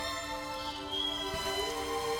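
Rain falls in the video game 99 Nights in the Forest, a steady soft patter with scattered drops over a constant tonal game hum, no voices.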